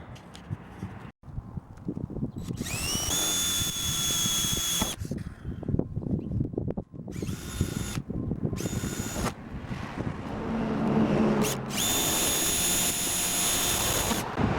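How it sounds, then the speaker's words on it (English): A rivet tool works along the seams of a plastic tote being made into a trash can lid, giving repeated loud whirring bursts with clattering handling noise between them. "So I went ahead and riveted the extra 2 on each side."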